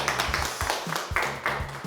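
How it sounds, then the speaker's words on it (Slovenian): A small crowd at a school cooking quiz claps for a contestant, a brief patter of scattered hand claps at moderate distance. "Dajmo en aplavz, no, za Jerneja"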